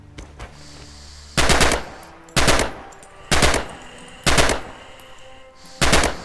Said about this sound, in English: Free fire at the targets on the range.